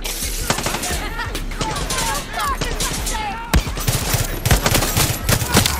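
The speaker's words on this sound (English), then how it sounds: "who is shooting out there?" Bursts of automatic gunfire and scattered single shots crackle during a Far Cry 6 boss fight, loud and close, with shouting voices and game chatter mixed in among the sharp reports.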